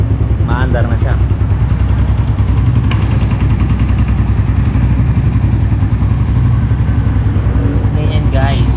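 A 2023 Suzuki Raider FI 150 motorcycle engine idles close by with a steady low rumble and faint mechanical clatter, with people talking over it throughout.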